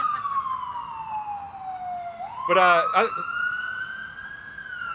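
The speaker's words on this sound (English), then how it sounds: "I'm going to try to talk over the siren." A wailing emergency vehicle siren sweeps down and then climbs again as it passes, with a brief burst of rapid yelp tones in the middle, heard under someone speaking outdoors at a bike-to-work event.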